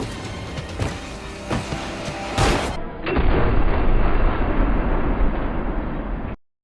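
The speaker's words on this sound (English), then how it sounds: "That's a fucking shotgun." A shotgun blast in a 2 Fast 2 Furious action scene, one heavy boom amid loud movie sound, followed by a denser roar of action noise.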